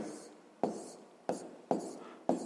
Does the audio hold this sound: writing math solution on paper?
yes